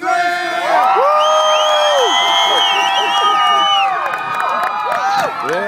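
A large outdoor crowd at a Venice Beach street show cheers, whoops and yells loudly and continuously, with rising and falling shouts layered over a dense wash of voices and some scattered clapping.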